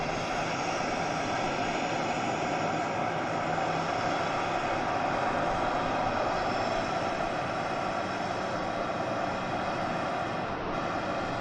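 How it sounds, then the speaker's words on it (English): A Scandinavian airliner arrives at Manchester Airport from Oslo, its jet engines giving off a loud, continuous roar that stays even and close for the whole stretch with no voices over it. "Scandinavian arriving in from Oslo."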